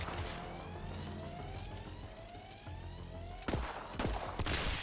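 Gunfire from a gun in Borderlands 3, played in VR: fairly faint, rattling shots under rising whistling tones, ending with a few louder, sharper bursts.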